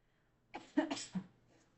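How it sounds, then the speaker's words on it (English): A patient coughs on request during a clinical swallow evaluation: a quick cluster of two or three close, soft coughs in a quiet room. "can you go ahead and cough for me?"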